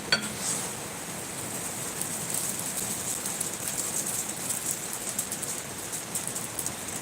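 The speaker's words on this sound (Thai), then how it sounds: "ฝนกำลังตกเลยค่ะฝนกำลังแรงค่ะ" Heavy rain falls steadily in Sawankhalok, Sukhothai, Thailand as a dense, even hiss that fills the whole stretch with no break and no voices.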